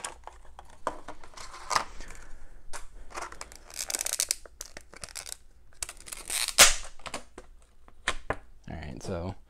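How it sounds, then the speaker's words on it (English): Paper and cardboard packaging torn off an Amiibo box: close, irregular bursts of ripping and crinkling, some sharp and loud, scattered across quiet gaps with small handling clicks. "take off all of the paper so I can recycle it and stuff,"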